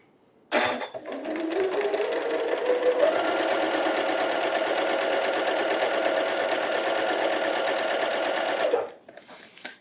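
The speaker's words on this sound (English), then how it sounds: "So I'm gonna sew this one and this one together." A sewing machine stitching pieces of Tula Pink quilt fabric together, running one steady, loud, rapid mechanical whir for about eight seconds after a brief start, close by and alone, then stopping.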